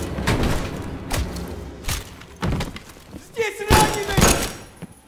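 In the Call of Duty Cold War campaign, a door is opened with heavy thuds and knocks, followed by a louder rattling crash near the end, with voices speaking around the impacts.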